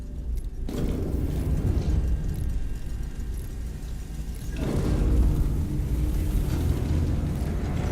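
Heavy cannon fire in the Iron Nest video game: a deep, rumbling boom swells around four and a half seconds in over a continuous low roar, loud and full, with no talking.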